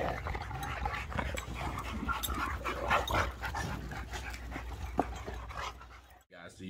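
Rottweilers panting heavily up close with wet chewing on hides and shuffling, a busy noisy scene with some background voices.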